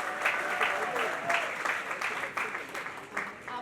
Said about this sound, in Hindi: एक बार जोरदार तालियां रमेश सुहेल के लिए।